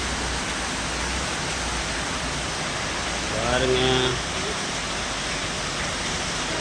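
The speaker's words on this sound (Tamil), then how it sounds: "மழை சரியான மழை வந்துட்டுருக்கு கோயம்புத்தூரில் மழை மக்களே" Heavy rain pouring down on a Coimbatore street outside houses, a dense, steady hiss close by that never lets up, with a voice speaking briefly over it midway.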